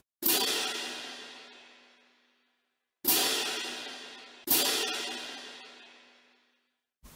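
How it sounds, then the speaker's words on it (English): A cymbal struck three times, each crash bright and loud, then shimmering and slowly fading away, with the last two hits close together and no talking. "That is the sound of a cymbal."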